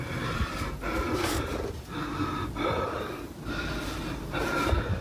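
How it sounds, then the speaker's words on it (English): A frightened man breathing hard in his grandmother's old house, with loud, close, rhythmic heavy gasps and snorting inhales and exhales repeating about every second. "This dude's breathing so hard."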